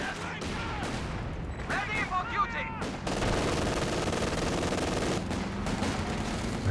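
A 17 pounder anti-tank gun firing in Company of Heroes 2, heard among busy battle sounds: scattered shots and whines, then a heavy, continuous barrage of gunfire, with a voice talking over it.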